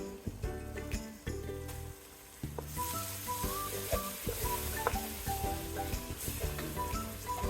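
Onions fried about five minutes, with four tablespoons of ginger-garlic paste added, sizzle steadily in a pan, a broad close hiss with clinks and scraping of stirring throughout.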